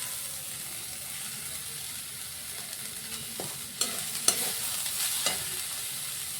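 Shredded cabbage and carrot stir-fry in a pan with onion, ginger, garlic and green chilli, a steady soft sizzle broken by a few sharp spatula scrapes and clanks in the second half.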